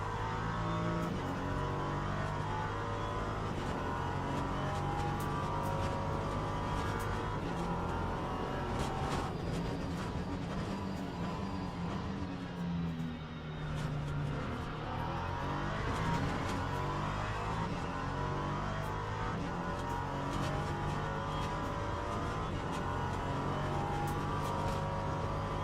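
Steady, loud engine drone of an LMP3 prototype race car lapping Sebring from onboard, pitch rising and falling through gear changes and corners, continuous with no talking.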